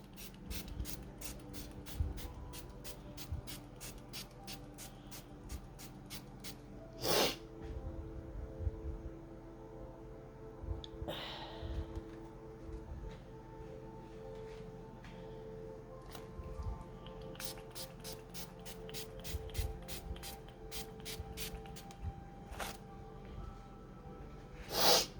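Blue Glimmer Mist is spritzed onto a mixed-media art journal page, giving a few short, soft bursts of spray among quiet, rapid ticking and rustling from close by.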